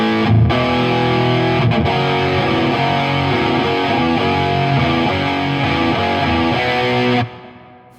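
Guitar played through an amp rig in a stereo setup with a twin tracker effect and reverb, loud and sustained distorted chords ringing broadly, then cut off with a short reverb tail at the end.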